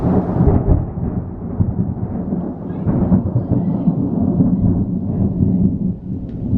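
Thunder from a nearby thunderstorm in a backcountry setting, a long continuous low rumble rolling loudly through the whole stretch with no voices.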